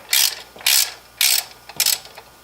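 A 1/2-inch drive socket ratchet wrench with a 9/16 socket on a 3-inch extension backs nuts off a fuel pump on a 1979 Jeep Cherokee. It gives four close, loud bursts of rapid clicking in an even back-and-forth rhythm.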